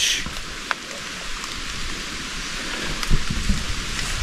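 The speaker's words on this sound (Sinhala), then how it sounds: "පොඩි වැස්සක්." Light rain falls in the Sinharaja rainforest in Sri Lanka, a steady soft hiss through the canopy with a few louder drop taps, continuous and without voices.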